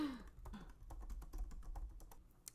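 Quiet typing on a computer keyboard at a craft desk, a run of soft, irregular key taps close by with faint background hum and no talk.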